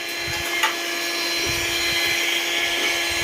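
A steady electric heat blower whirs continuously at close range, heating a Honda Click 125 engine case before the crankshaft is fitted, a constant broadband hum with a faint tonal whine and a few small knocks.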